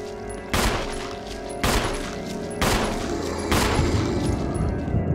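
Heavy gunfire in the Resident Evil Remake (2002) video game: four loud, booming shots spaced roughly a second apart, each with a long ringing tail, under a steady ambient hum.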